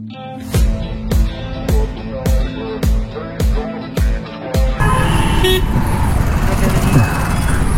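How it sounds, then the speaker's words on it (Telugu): A large lorry squeezes into a narrow lane, sounding a string of eight loud, evenly spaced horn toots before its engine and road noise take over in a steady roar. "ఈ సందులోకి ఇంత పెద్ద లారీ వచ్చింది"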